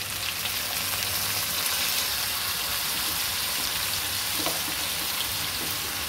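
Chicken feet adobo in a pan just after light sauce goes in, giving a steady, dense sizzle and crackle that holds evenly throughout at moderate volume.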